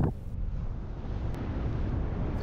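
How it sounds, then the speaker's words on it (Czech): Wind blows steadily across a microphone at a paragliding launch site, a continuous low rumbling buffet that stays loud and even throughout with no talk. "Na startu fouká ideální vítr, jen trochu zleva, ale ne nějak zvlášť."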